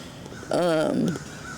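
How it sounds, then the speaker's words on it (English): A crow caws loudly nearby in one drawn-out harsh call, with a quieter voice and faint background around it. "You hear the crows?"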